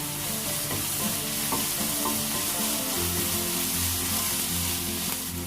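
Green chillies and curry leaves sautéing in a pan for a quail roast, a steady close sizzle with light stirring clicks and scrapes running throughout.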